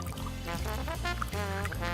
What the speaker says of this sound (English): Add a single measure of orange juice,